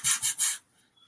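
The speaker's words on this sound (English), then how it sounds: "For people listening on audio, this is sandpaper." Sandpaper rubbed over a surface in three quick, close strokes, each a bright rasping swish, followed by near silence.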